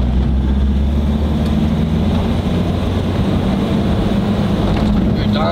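Broken-down truck with a power loss, its engine revving under throttle from low revs, a loud steady drone with deep low harmonics and wind noise throughout.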